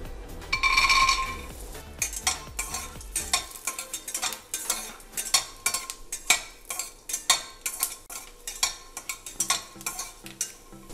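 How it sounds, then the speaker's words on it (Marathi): Peanuts dry-roasting in a pan, a brief frying hiss at first giving way to repeated scraping and clinking stirs of a spoon against the metal, irregular and close, without talk. "2 मोठे चमचे शेंगदाणे खमंग भाजून घेऊया."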